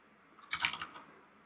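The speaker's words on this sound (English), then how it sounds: "Let's just type in this Vitis debug command line" A short flurry of keystrokes on a computer keyboard, a handful of quick soft clicks in under a second, faint and close in an otherwise quiet room.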